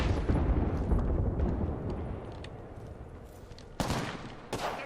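A dense, rumbling wash of battle noise in the video game Apex Legends, with two sudden explosive blasts bursting out near the end.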